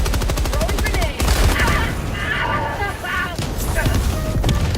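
Rapid bursts of automatic gunfire and explosions from the shooter game Helldivers 2, loud and continuous with dense layered shots and booms throughout.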